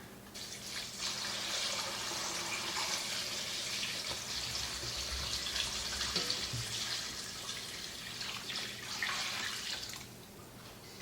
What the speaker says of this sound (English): Now all we have to do is fill this with water.